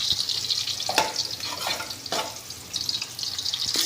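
Garlic and ginger sizzle in a hot pan for adobong manok, a steady close frying hiss broken by a few brief stirring scrapes.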